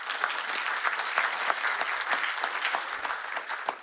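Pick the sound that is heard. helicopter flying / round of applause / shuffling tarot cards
round of applause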